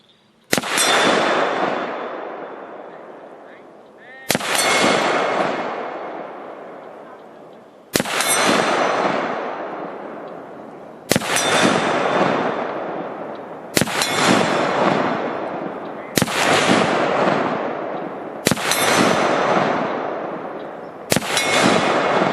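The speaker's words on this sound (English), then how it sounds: "this is at 100 yards with a 308 Winchester" A 308 Winchester rifle firing what is likely 147-grain full metal jacket at 100 yards strikes a 12-inch Shoot N Spin Super Swinger steel gong target. Eight loud, sharp reports come a few seconds apart, each followed by a ringing metallic decay.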